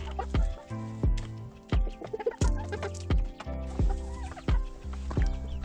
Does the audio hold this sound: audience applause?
no